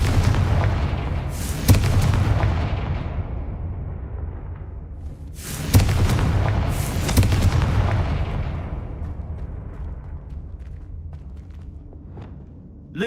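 Fire-spell explosions in the Hogwarts Legacy video game: two heavy, booming blasts a few seconds apart, each with a long rumbling tail, followed by lighter distant pops and muffled footsteps.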